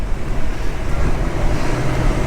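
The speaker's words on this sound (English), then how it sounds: "in a place like this, because you're right by the ocean, you will always have some kind of wind" Steady wind buffeting the microphone on the warm, tropical Gulf shore at South Padre Island, Texas, a dense low roar mixed with surf-like wash that holds constant throughout, loud and close with no voices.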